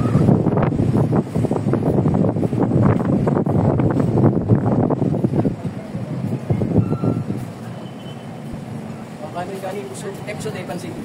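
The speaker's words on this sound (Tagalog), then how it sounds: "Grabing sarap ng hangin." Steady, loud wind rushes against the microphone aboard a boat on choppy sea on the way to Samar, with voices talking through it.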